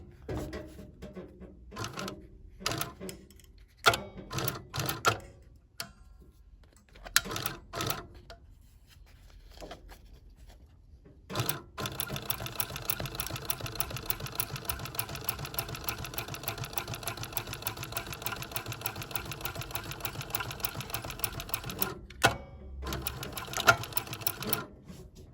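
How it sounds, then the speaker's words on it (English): A sewing machine stitching a Gucci tote starts with a few short hesitant bursts and clunks. It then runs in a long, steady, fast mechanical whir before stopping with a couple of final stitches, close and moderately quiet. "now we can go ahead and start stitching"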